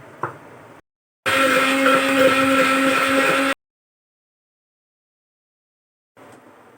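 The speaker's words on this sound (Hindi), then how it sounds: "जूसर मशीन में ले लें, या फिर क्या कहते हैं जिससे मसाला पीसते हैं वो मशीन ले लें" An electric juicer-grinder blends aloe vera pieces into a paste in one loud, close motor whir lasting about two seconds. Faint room noise comes before and after it.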